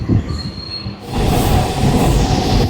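A train rolls through with loud, sustained wheel squeal and rumble, jumping sharply louder after the first second and staying close and intense, with no talk over it.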